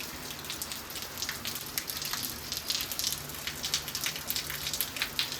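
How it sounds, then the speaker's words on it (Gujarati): Summer rain falling at Balagam, a steady patter of raindrops on surfaces with dense, irregular taps heard fairly close and moderately soft, with no voices. "હવે ભર ઉનાળે હવે ગરમીમાં વરસાદ આવી ગયો"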